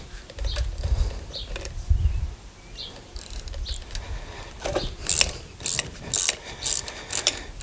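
A pass-through ratchet wrench turns an 8 mm socket during a Belltech 2/4 drop kit install on the front of a 2017 Ram 1500 4X4, giving bursts of close, sharp ratchet clicks between quieter handling and thuds.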